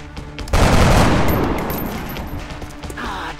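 A gunshot in XCOM: Enemy Within, one sharp loud blast followed by a rolling, slowly fading rumble as the shot echoes out.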